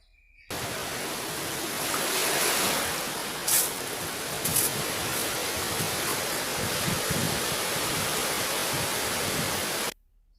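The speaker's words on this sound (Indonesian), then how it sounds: "Yang kedua, bunyi ombak." Ocean waves give off a steady, dense roar of rushing water that starts suddenly, swells slightly and rolls on evenly for about nine seconds before cutting off.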